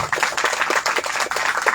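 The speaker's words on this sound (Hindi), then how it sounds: "मुस्कुराते हुए हम यीशु के लिए ताली बजाते हैं।" A crowd claps together for Jesus during a worship service, a dense, steady patter of many hands sustained throughout with no voices standing out.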